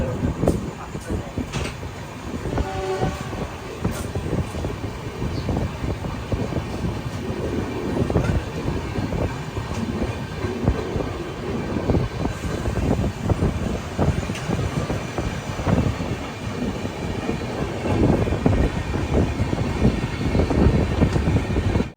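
The Jan Shatabdi Express from Howrah arriving at Bhubaneswar station, a continuous rumble of rolling wagons with rattling, clanking and a brief squeal, steady and close throughout.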